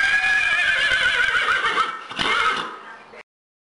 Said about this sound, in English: You sure like to whinny